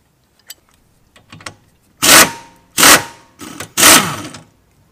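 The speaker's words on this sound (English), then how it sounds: "So I'm gonna go ahead and fully remove these with the air gun." An air impact wrench removes rear control arm bolts on a car in a garage, firing four loud rattling bursts in close succession after a few light tool clicks.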